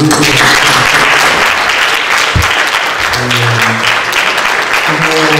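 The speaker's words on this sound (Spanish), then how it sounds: "queremos agradecer al doctor Lastraín, los invito a un aplauso para él." Audience applause at a university law faculty lecture in Spain, a steady dense clapping wash filling the whole stretch at full loudness, with faint murmurs beneath.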